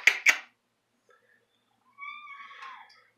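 A house cat gives one drawn-out, wavering meow after a couple of sharp clicks and a pause, heard close up in an otherwise quiet room.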